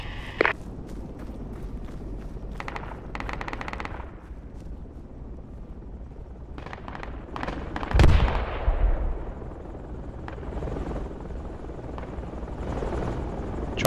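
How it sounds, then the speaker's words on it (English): A helicopter approaches in the tactical shooter game Project Reality, its rotor drone rising under scattered distant gunfire, bursts of machine-gun fire and footsteps, swelling loudest midway before settling. "Chopper coming in there."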